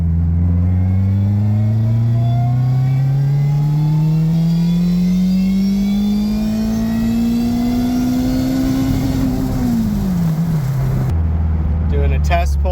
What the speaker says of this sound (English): Doing a test pull through all the gears.